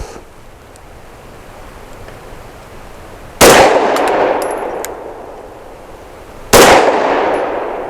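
A BUL Armory Axe FS Cleaver pistol firing 50 grain +P ammunition: two sharp, loud reports about three seconds apart, each trailing off in a long ringing echo over faint outdoor background noise.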